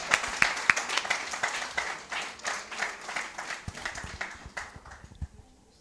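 Audience applause at a strategic thinking workshop and expo, a dense burst of many hands clapping that gradually thins out and fades toward the end.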